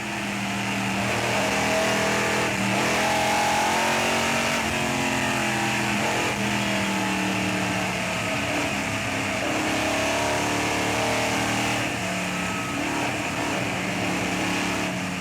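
Cobra race cars racing on the Magny-Cours circuit in the Tour Auto 2008 historic rally, with loud continuous engine roar and revving close by throughout, no talk.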